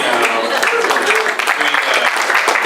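Audience applause at a healthcare tech meetup held at the Museum of Science in Miami: steady dense clapping throughout, with some voices mixed in.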